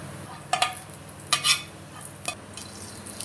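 Chopped garlic and Kashmiri chilli powder hit hot oil for an egg tadka, a low background sizzle broken by a few sharp spoon scrapes and clinks against the pan.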